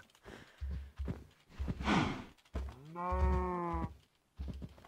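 Cows mooing in the Minecraft video game, several short low lowing calls in sequence with gaps between, one longer drawn-out moo near the end, fairly close and alone.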